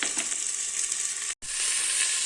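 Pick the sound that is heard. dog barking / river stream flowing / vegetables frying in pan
vegetables frying in pan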